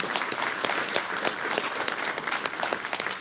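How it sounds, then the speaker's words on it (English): Audience at a tribal conference board of directors meeting gives warm, steady applause, dense clapping with a few sharper claps standing out near the microphone. "Let's give them another warm applause of appreciation."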